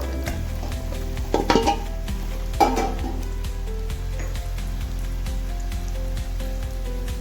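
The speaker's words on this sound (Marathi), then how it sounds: "आता मी बटाटा टाकते." Potatoes tumble into a hot pan for batata bhaji, setting off a couple of clattering bursts, then a steady sizzle carries on alone over a low background hum.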